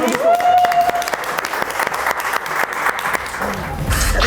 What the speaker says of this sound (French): L'applaudissement.